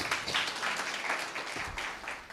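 A conference crowd applauds in a hall, with dense, continuous clapping from many people that stays fairly loud and even throughout, with no speech.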